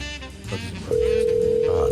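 A telephone dial tone starts abruptly and holds as a steady, loud continuous hum after a moment of indistinct sound.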